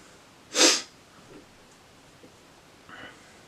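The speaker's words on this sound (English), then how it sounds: "Felt the sneeze about to come on." A single sudden sneeze, loud and close, bursting out after a quiet moment, followed by soft breathing and a faint sniff in an otherwise still room.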